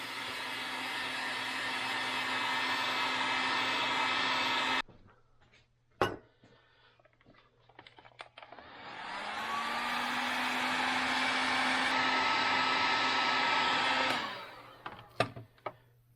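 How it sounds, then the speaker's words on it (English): A heat gun blows steadily and loudly while warming the fork stem part of a 1998 Suzuki RM125 motorcycle, cutting off for a quiet stretch with a few clanks, then whirring back up to a strong drone before stopping. "I'm going to hit it with my heat gun instead of a flame torch"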